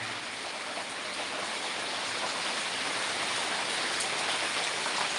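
Steady morning rain falling close by, a dense continuous hiss of drops on surfaces with no pauses, fairly quiet and even throughout.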